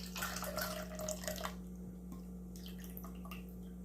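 Liquid from cooked cubed potatoes poured off in a kitchen, a faint trickling splash for about a second and a half, then quieter drips over a steady background hum.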